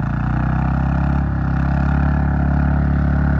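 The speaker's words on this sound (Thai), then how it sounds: "ก็ต้องเร่งเครื่องเยอะหน่อยนะครับ" A water pump's engine runs hard at high throttle, a loud, steady, close-up mechanical drone with a rapid pulsing beat that holds constant throughout, dipping briefly before settling back.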